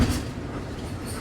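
A train runs alongside a road, with a steady dense rumble and rolling rail noise that holds even through the short stretch, close by and fairly loud.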